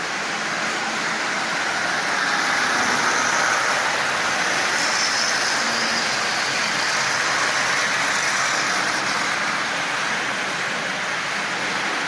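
A Marx 1666 toy train locomotive pulling twenty cars runs at about half power with a steady, close, hissing mechanical whir that stays even and unbroken throughout.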